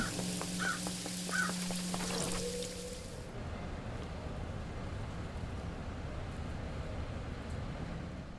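Crows caw a few times in the video game Paradise Killer, short harsh calls over a steady ambient rumble and hiss, then the calls stop while the low background drone carries on.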